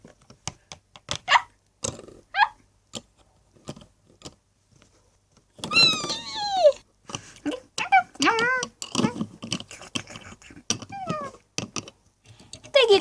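A cat meowing several times, with short rising and falling cries, a few sparse calls early and then a denser run of wavering meows later, close and fairly loud amid light tapping sounds.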